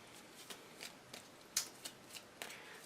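Playing cards riffle and slap in quick, soft bursts as a deck is shuffled during an Arkham Horror card game, close and quiet with no talk.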